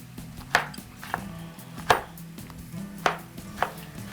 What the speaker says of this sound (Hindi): टमाटरों को हम कर लेते हैं अच्छी तरह से चॉप्ड।